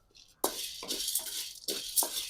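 A spoon scrapes and clinks against a pan while stirring carp bait mix as it roasts over low heat, several close metallic strokes in an uneven rhythm.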